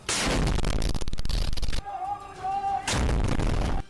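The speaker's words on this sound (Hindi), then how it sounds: "रॉकेट के इमारत से टकराते ही वहां एक जोरदार धमाका हुआ" A rocket hits a building: a loud, crashing blast with heavy rumbling debris, a brief quieter gap with a faint tone, then another burst of loud noise.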